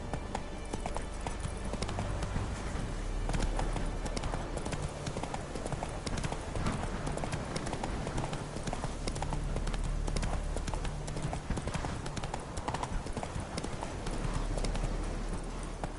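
The horse Roach gallops in a video game, with rapid, continuous clip-clop hoofbeats pounding steadily throughout at moderate loudness over a low background rumble.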